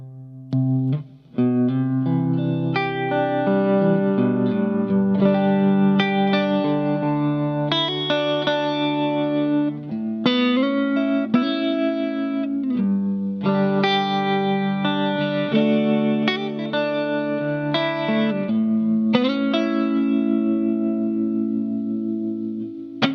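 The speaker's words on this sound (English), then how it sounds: "So that's when I use that kind of reverb sound." Electric guitar chords and arpeggios drenched in shimmering chorus and lush reverb, ringing out continuously with sustained, washy tails.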